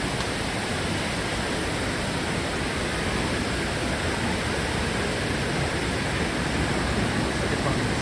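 A dense, unbroken rush of falling water at Datanla Waterfalls in Da Lat, Vietnam, loud and close, with no pauses or voices.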